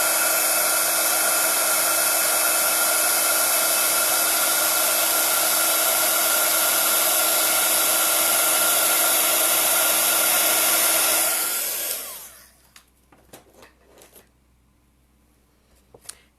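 A heat gun melts embossing powder for heat embossing, blowing as a loud, steady whine and hiss for about twelve seconds before cutting off, followed by a few faint clicks and handling sounds.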